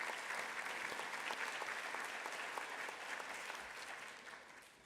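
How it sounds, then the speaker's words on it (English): A crowd applauding steadily at a school district award ceremony, a dense patter of many hands clapping that holds for several seconds and then slowly fades. "Let's give all these groups one more round of applause"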